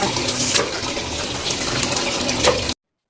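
Running water splashes steadily as raw meat is rinsed by hand at home, a continuous close gush like a tap flowing into a bowl, with no talk.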